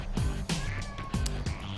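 A pet cat meows repeatedly and loudly close by, several short insistent cries in an uneven rhythm over a busy, noisy background.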